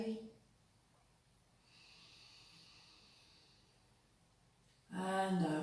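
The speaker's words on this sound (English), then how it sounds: "Breathing in again when you're ready." Slow, deep yoga breathing: a long, soft airy inhale swells gently and fades, then a louder exhale or voice rises at the end, close and quiet.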